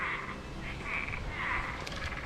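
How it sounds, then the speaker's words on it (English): Many frogs croak in overlapping, pulsing calls from nearby during Hurricane Ian's heavy rain and wind, a steady chorus with no voices over it. "Hear the frogs? They're everywhere."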